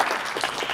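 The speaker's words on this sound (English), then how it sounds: "You can clap if you want to." Audience applause at a public hearing on the New York State draft energy plan in Syracuse, a short dense burst of clapping filling the room at moderate loudness.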